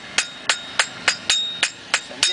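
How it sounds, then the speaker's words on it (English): A farrier's hammer strikes hot steel in eight sharp, evenly spaced metallic blows, each ringing briefly before the next, close and loud with no talking. "as I heat it and hit it with my hammer"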